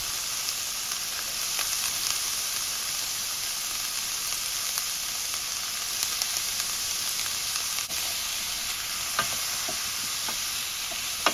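Coconut sautéing in a pan of lamb chop masala gravy, a steady bright sizzle running throughout with occasional soft stirring clicks, close and moderately loud with no talking.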